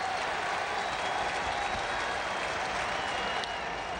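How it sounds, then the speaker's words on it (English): A baseball stadium crowd applauds and cheers steadily through a tense extra-inning moment in an 8-8 tie, a dense, even wash of clapping with no breaks. "Crowd back into it on the 0-2 count."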